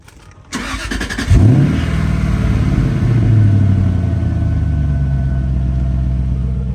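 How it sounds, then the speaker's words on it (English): A Jaguar XF cold start happens under a carport late at night: a short crank rises into a loud engine catch and a brief rev flare, then settles into a steady, high fast idle that stays close and prominent. "Let's hit this cold start."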